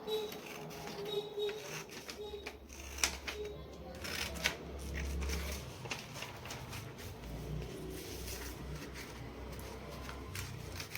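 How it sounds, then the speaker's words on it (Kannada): Scissors snipping along a fold in paper while making a paper boat, close crisp cuts and rustles repeating over several seconds, with faint speech in the background. "ಸೊ ನಾನು ಸೀಸರ್ ಮೂಲಕ ಕಟ್ ಮಾಡ್ಕೋತಾ ಇದ್ದೀನಿ"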